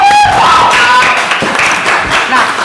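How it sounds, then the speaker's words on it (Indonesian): A small group at a school student council podcast session applauds, a loud, brief burst of clapping with whistle-like tones and voices mixed in. "tepuk tangan lagi dong"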